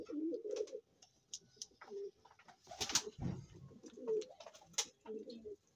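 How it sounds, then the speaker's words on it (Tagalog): Racing pigeons coo in a loft, their soft, throaty calls fairly quiet and repeating in short bursts. Scattered clicks and rustles come from the birds and their surroundings. "Ayan ang ating mga ibon."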